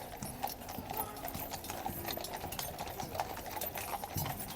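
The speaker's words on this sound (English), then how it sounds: "Horses are playing up, even the police horse is playing up" Horse hooves, including a police horse's, clip-clop busily on hard pavement, several animals stepping at once, with a murmur of people talking in the background.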